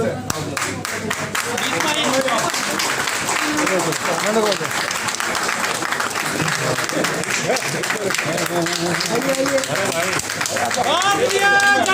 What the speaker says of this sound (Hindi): जोरदार तालियों के साथ इसका स्वागत किया जाए